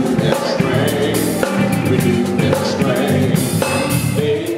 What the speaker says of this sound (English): That's the sound of more than 100 youth and adults from all around the conference seeking renewal